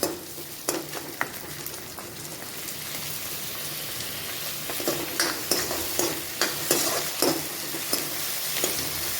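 Bell pepper frying in a pan: a continuous sizzle with intermittent scraping and stirring clicks from a utensil, close and steady, with no voices.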